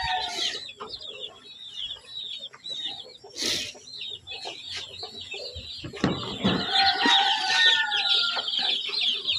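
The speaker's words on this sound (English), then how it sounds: "we've just the little chicks and the chickens at this end to organise" Chickens and little chicks cluck and cheep busily in a pen, with a rooster crowing midway and a burst of louder clucking after, close and continuous with no talk.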